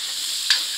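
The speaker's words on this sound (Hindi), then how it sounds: "फ्राई करेंगे टमाटरों को, फिर इसमें मसाले ऐड करेंगे" Tomatoes frying and being stirred in a pan, a steady bright sizzle with a quick scrape of the spoon midway, short and close.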